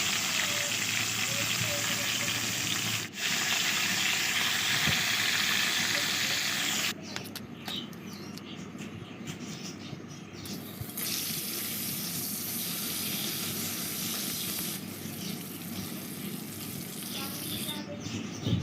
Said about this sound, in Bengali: এবার কাঁকড়াগুলো ভেজে নিই।